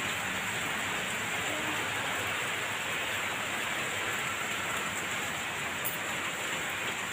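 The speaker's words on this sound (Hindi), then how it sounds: "इतनी बारिश हो रही है ना मम्मी, मैं डर गया, बहुत ही ज़्यादा।" Heavy rain pours down without a break, a dense, loud hiss of drops on surfaces that fills the whole stretch, with no talk over it.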